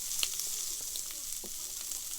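Quail fillets sear in a pan with a soft, steady sizzle and scattered small pops and crackles, heard fairly quietly without talking.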